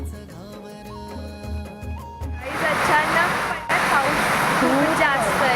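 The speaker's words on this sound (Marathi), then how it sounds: "जुलै ते सप्टेंबर म्हणजेच पावसाळ्यात धबधब्याचा वेग सर्वात जास्त असतो आणि बघायला खूप आकर्षक असतो" Vajrai waterfall in Satara in the monsoon: tonal music gives way to a loud, steady roar of rushing water that fills the rest of the clip.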